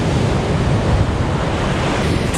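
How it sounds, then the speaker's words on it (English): Huge waves break on Metalia beach on Thassos, Greece, a loud continuous roar of surf with gusting wind buffeting the microphone and no voices. "huge waves"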